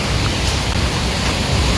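Rushing water of Ssezibwa Falls in Uganda, a steady broadband roar with strong low rumble, continuous and fairly loud from start to finish with no voices over it.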